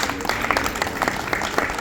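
Brief applause from a gathered audience at a spiritual discourse, a short burst of clapping with individual claps standing out, fairly steady and moderately loud.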